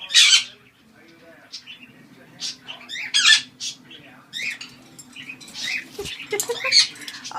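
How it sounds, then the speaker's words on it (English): A pet bird chirping and squawking in short bursts in the morning, close and moderately loud, with quiet pauses between calls. "Good morning, Bluebird. What you doing, Bluebird?"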